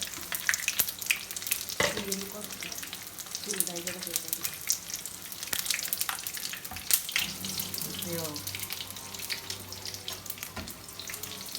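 Steady bubbling crackle of bajji fritters deep frying in hot oil, continuous and close, with a few faint voices murmuring in the background.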